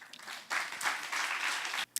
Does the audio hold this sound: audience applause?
yes